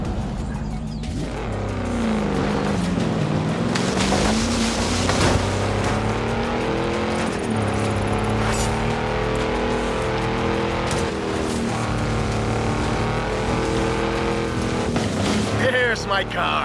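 A Jaguar XJR-15 in Forza Horizon drives with a loud, steady engine drone whose pitch rises and falls through gear changes, running continuously from start to finish.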